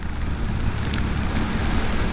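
Rain and rushing wind are heard while riding a motorcycle in wet weather, a dense steady broadband hiss and rumble with faint spatters, loud and continuous.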